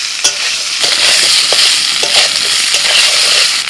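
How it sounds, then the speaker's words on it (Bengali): Mixed vegetables fry with ginger and green chilli paste in a pan, giving a loud, steady sizzle broken by scraping stirs and a few sharp spoon knocks, with no talking. "এবার আদা কাঁচা লঙ্কাটাও সবজির সাথে আমি দু মিনিট ভেজে নিই"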